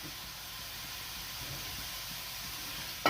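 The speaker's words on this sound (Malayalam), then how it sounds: "ഇനി നമുക്ക് ഇതിലേക്ക് ഇത് വേകാൻ ആവശ്യമുള്ള വെള്ളം ചേർത്ത് കൊടുക്കാം" Water is poured into a hot pan of dry-cooked potatoes with curry leaves, producing a steady, even hiss of steam and sizzle that runs through the short stretch before a sudden louder burst at the end.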